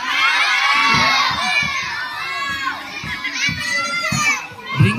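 A crowd of children shouts and cheers excitedly at an offered game, a loud overlapping din of high voices with bursts of yelling that rise and fall throughout.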